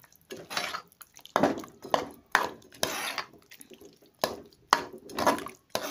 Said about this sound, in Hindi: गाइस इसमें हम अब दही डाल रहे हैं इस तरह से